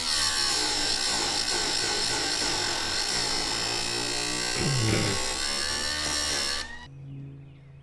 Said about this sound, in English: Don't have any more chains, so we're sharpening chains.